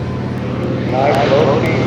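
Propeller airplane making a low, fast pass at the Virginia air show, a steady engine drone that swells slightly as it nears, under a commentator's voice.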